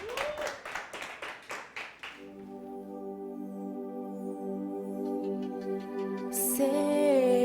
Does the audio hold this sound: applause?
yes